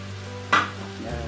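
Spicy goat meat with seasoning and Scotch bonnet peppers frying in a pan, a steady low sizzle with one brief scraping stir near the middle, close and moderately loud.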